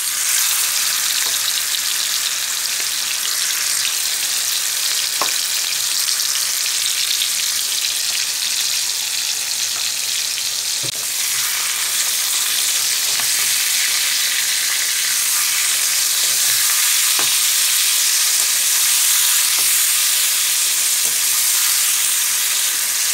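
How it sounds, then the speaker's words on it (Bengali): Chicken pieces fry in hot oil in a kadai with a constant, loud sizzle and occasional crackles and pops throughout, close up and without any voices. "এবার এই চিকেন পিসেসগুলো জাস্ট এতে দিয়ে ফ্রাই করব"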